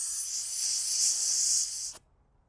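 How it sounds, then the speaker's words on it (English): Air hissing loudly and steadily out of an off-road vehicle tire as it is let down toward 20 psi, a close continuous rush that cuts off abruptly near the end. "let's air down to around 20 psi"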